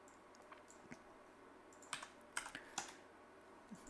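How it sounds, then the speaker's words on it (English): Quiet, close typing on a computer keyboard during a live trading session, irregular key taps with a few louder clustered strikes over a low background hum. "What am I typing?"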